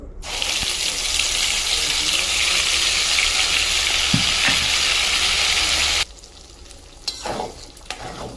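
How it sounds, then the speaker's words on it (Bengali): Green peas tipped into hot oil seasoned with asafoetida hiss in a loud, continuous sizzle for about six seconds, then the frying drops to a quieter crackle with a few scattered clatters. "হিং ফোড়ন দিয়ে দিয়েছি, দিয়ে কড়াইশুঁটিটা ঢেলে দেব।"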